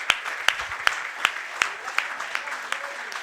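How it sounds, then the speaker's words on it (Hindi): A gathered group at a Yavatmal camp session claps together in a steady rhythmic beat, each clap distinct above a soft bed of scattered hand noise. "तो आप सभी के लिए एक बार ताली हो जाए"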